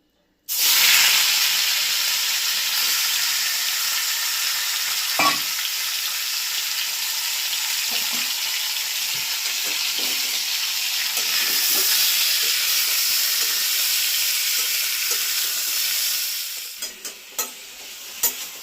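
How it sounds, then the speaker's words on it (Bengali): Chicken pieces for a Bengali-style curry sizzle loudly in hot oil in a pan, a steady crackling hiss that goes on without a break, with occasional scrapes and stirs, and no one speaks. "এই চিকেনটা আমি দিয়ে ভেজে নেব।"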